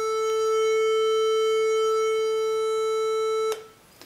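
A steady synthetic tone holds at one pitch for about three and a half seconds, bright and buzzy, then cuts off abruptly.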